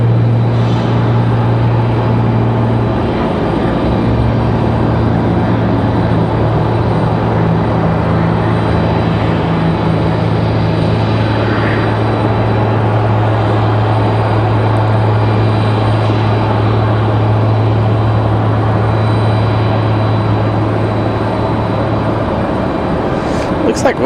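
Southwest and Breeze airliners departing Raleigh-Durham International Airport, a loud, sustained jet engine roar with a steady droning hum throughout, heard from a spotting position with a person talking over it.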